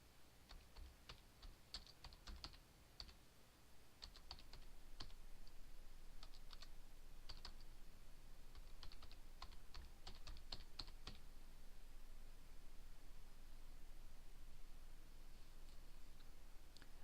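Typing on a computer keyboard, bursts of quick light key clicks in irregular clusters over a steady faint hiss, close and quiet, with no talking.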